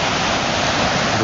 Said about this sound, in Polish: I tutaj ta woda z lodowca wypływa